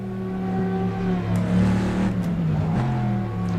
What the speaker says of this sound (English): Ferrari's got a very distinct sound to its engine, like Lambo's.